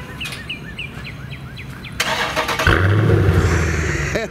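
A Dodge Challenger 392 Scat Pack Widebody muscle car's engine cranks and fires loudly, then settles into a deep, rumbling idle with rising revs, after birds chirp in the background.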